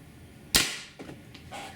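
A Scarab Arms TGR2 MK2 airsoft gun with its strongest red spring fires a rubber training round as one sharp, loud crack. A fainter second report follows, then a small click.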